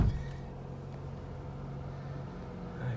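A Toyota RAV4 engine idles steadily after being switched on, a low continuous hum with a faint start-up surge at the beginning and a slight swell near the end, heard from inside the car.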